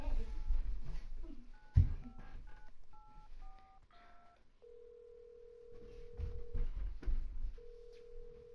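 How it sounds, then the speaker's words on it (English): In the Resident Evil 7 video game, a telephone keypad beeps through a short run of tones before a long, steady phone ring starts, then pauses and sounds again. Low rumble and faint noise sit under the tones. "Phone ringing, phone ringing."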